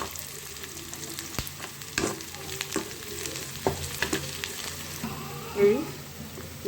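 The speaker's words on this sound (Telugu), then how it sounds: "పక్కన ఉల్లిపాయలు కూడా అలాగే ఫ్రై చేస్తున్నానండి. సిమ్లో పెట్టుకొని చేస్తున్నాను." Onions fry gently over a low flame beside a brinjal curry, giving a quiet, soft sizzle punctuated by intermittent spoon scrapes and taps against the pan.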